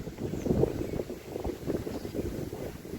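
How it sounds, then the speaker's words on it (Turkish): Strong wind buffets the microphone in low, rumbling gusts during a young pigeon flight session, steady and loud throughout with no clear voices. "Rüzgar çok basıyor arkadaşlar"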